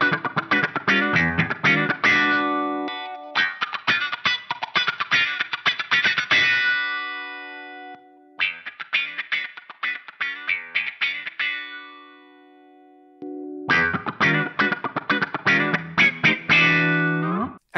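An electric guitar runs through an FM9 envelope filter and plays funky, rhythmic strummed bursts in several phrases, first in low pass mode and then in high pass, with quacking, wah-like sweeps and short gaps between the passages.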